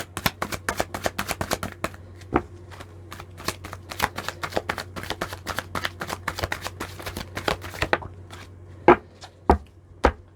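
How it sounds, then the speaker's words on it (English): Tarot cards are shuffled, flicked and drawn from the deck in a rapid, crisp run of close snaps and riffles, slowing toward the end into a few sharper single slaps, over a faint steady hum. "I need to grab one more card"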